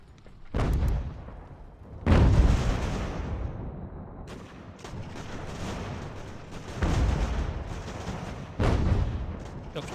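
Musket volleys and artillery booms in the game Ultimate General: American Revolution during a fort defence, rolling in several loud bursts that swell and fade over a low rumbling backdrop, with no talk.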